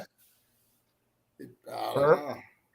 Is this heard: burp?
yes